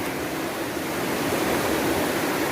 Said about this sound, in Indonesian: sekarang yang kita lalui adalah jalur sungai